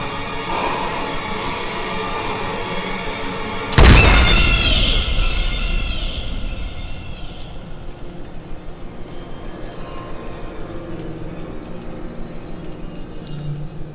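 A single sharp, loud pistol gunshot in the video game Bioshock 2 bursts out after a low ambient hum and decays into a lingering ringing tail over quiet background tone.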